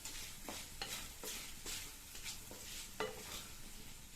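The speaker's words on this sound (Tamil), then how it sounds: "இப்போ நல்லா மிக்ஸ் பண்ணி விட்டுறலாம்." Spiced potato fry being stirred in a pan, a spoon scraping and turning the pieces in repeated strokes over a soft, steady sizzle, close and fairly quiet with no talking.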